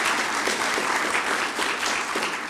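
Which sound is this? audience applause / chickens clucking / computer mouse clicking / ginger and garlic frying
audience applause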